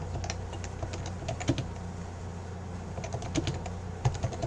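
Python code is typed steadily on a computer keyboard, a soft run of close key clicks with a few heavier thumps from the space bar, over a faint room hum and with no talking.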